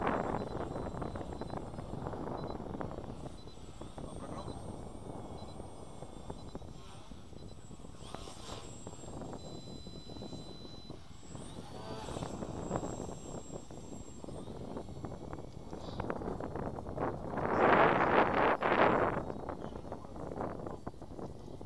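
Gusts of wind buffet the microphone in uneven surges, rising to a louder rush near the end, while people talk quietly in the background.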